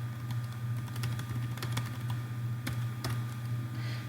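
Someone types steadily on a computer keyboard, with a run of quiet, irregular key clicks over a constant low electrical hum. There is no talking.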